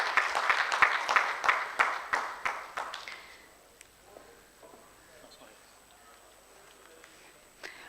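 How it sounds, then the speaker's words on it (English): Applause at a business AGM and conference rises as a burst of clapping from a modest audience, loud at first and then thinning to scattered claps before fading into quiet room noise with faint sounds. "Please give a round of applause."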